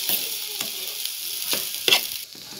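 Poha being stirred with a spoon in a pan after lemon juice is squeezed in, giving a steady soft sizzle broken by several distinct scraping strokes, close and alone.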